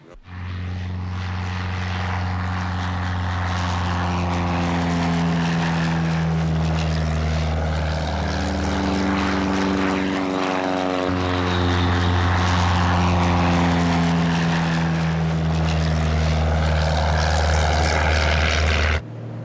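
A propeller airplane flies close by with a loud, sustained engine drone whose throbbing pitch rises and falls as it passes, steady throughout with no voices.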